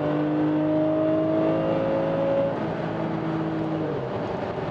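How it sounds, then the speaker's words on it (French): A Porsche GT3 accelerates through the gears, its engine giving a steady, close droning whine with a slightly rising pitch that eases off near the end, and no voices over it. "Petit coup de troisième, on va accélérer, on va voir si ça prend les tours comme il faut."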